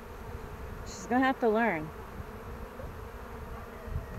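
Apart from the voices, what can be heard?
bees buzzing during beehive inspection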